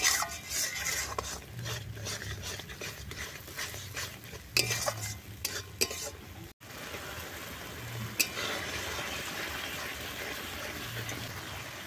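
Spice paste for chicken kosha is stirred and fried in a pan, with repeated scraping strokes of a spatula against the metal and clinks of utensils in an irregular rhythm, close and moderately loud, over a soft sizzle.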